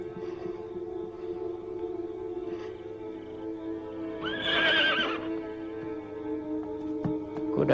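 A horse whinnies loudly in a single rising and falling call midway through, over a steady background drone with faint hoofbeat-like knocks, in an old Indonesian film set in the Majapahit era.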